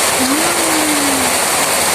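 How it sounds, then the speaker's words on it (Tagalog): Heavy rain pours in a dense, loud, continuous hiss, with a faint tonal hum briefly rising beneath it. "Lakas ng ulan talaga, grabe."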